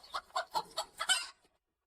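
A rooster in an animated story gives a quick series of five or six sharp, close clucks in an uneven rhythm, ending in a slightly longer call before silence, with no voices.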